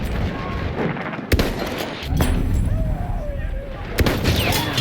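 Gunfire in the video game Battlefield 1: a few sharp, loud shots cracking out at irregular moments over a constant rumble of battle noise.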